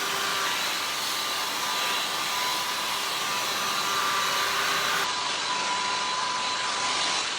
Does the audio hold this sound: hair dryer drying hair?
yes